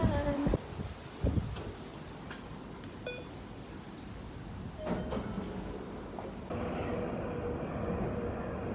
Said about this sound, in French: J'ai fini, du coup je vais prendre le tram.